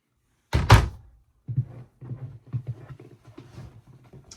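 A wooden door inside a 2018 Tiffin Wayfarer 24 BW Class C diesel motor home shuts with a solid, close thunk and a short rattle, followed by softer, muffled sounds.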